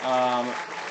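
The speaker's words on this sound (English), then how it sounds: "I don't know what we're clapping for, but it definitely gets a great big response." A crowd claps at a baseball game during a tournament, and the applause swells loudly, then thins out over about a second.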